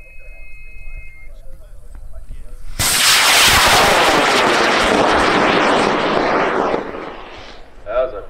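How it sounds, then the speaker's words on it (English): A 14-pound high power rocket motor ignites at a launch site in Argonia, Kansas, bursting into a loud, sustained roaring hiss that lasts about four seconds before fading, with quiet talk beforehand and a brief noise near the end. "we're launching your rocket in 5, 4, 3, 2, 1, launch."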